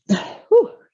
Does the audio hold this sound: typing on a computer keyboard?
no